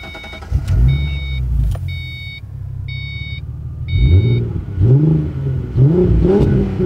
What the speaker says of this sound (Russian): Давайте я просто заведу машину, и вы послушайте,